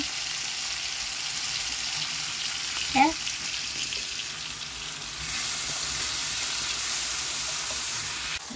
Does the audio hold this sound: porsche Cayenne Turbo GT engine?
no